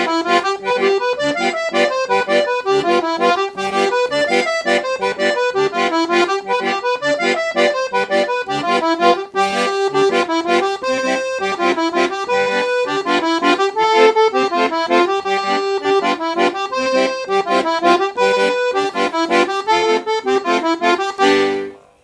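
A piano accordion plays a Forró tune in G mixolydian, with a lively rhythmic melody and bellows-driven chords sounding close and continuous for over twenty seconds, unaccompanied by speech.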